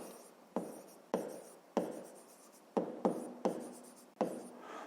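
Pen strokes scratching across paper while working a fifth-grade math exercise, a series of about eight short, sharp writing bursts at a steady pace, close and fairly quiet with no talk.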